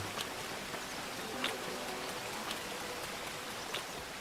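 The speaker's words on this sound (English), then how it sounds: "All the sound effects of the wildlife, you hear the water rushing." Rushing water fills a wilderness scene in the video game Xenoblade Chronicles X, a steady stream-like hiss broken by a few brief, sharp wildlife chirps or clicks, with no one speaking.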